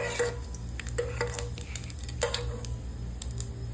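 Beef fat sizzling in cooking oil in a pan, a faint steady crackle and hiss with occasional stirring scrapes against the pan, close by and without talk.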